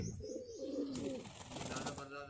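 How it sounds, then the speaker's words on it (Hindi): Pigeons in a loft in Tonk, Rajasthan give a low, rolling coo up close, followed by rustling and faint chirps, with a voice in the background. "ये देखिए माशाल्लाह क्या ज़बरदस्त कबूतर हैं"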